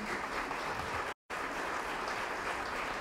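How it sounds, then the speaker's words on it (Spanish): Audience applause at an international forum on companion animal welfare, a steady, dense wash of clapping from a crowd, briefly cut by a short silent gap before resuming at the same level. "pido un gran aplauso para don Miguel Ángel"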